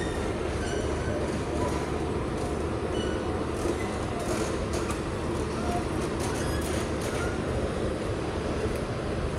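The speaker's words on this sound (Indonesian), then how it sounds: "kereta api komuter lain Garut diberangkatkan dari stasiun Cicalengka" Commuter train on the Garut line pulls out of Cicalengka station, a steady loud rumble of wheels and carriages with faint metallic squeals and clicks, no speech over it.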